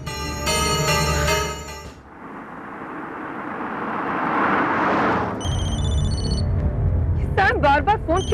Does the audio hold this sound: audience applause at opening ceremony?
no